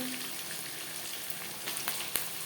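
Onions and tomatoes fry in a pan for chicken biryani, giving a soft, steady sizzle with a few brief clicks near the end.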